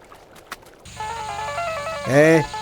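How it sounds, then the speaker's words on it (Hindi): A phone ringtone chimes in a steady repeating tonal pattern, with a brief louder burst near the end; faint background noise before it starts. "ये स्मिता इस वक्त फोन क्यों कर रही है?"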